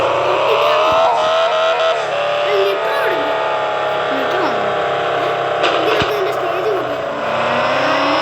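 A car exhaust revving in an online car parking game, a loud sustained engine roar with swooping pitch changes and brief skid-like sweeps, while someone speaks over it throughout.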